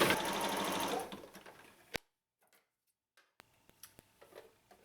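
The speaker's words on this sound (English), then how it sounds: "Let's say we're joining 2 pieces of denim, right sides together, standard straight stitch." A sewing machine straight-stitching two pieces of denim placed right sides together, running in a fast, steady whir for about two seconds before stopping, followed by a few faint clicks and taps.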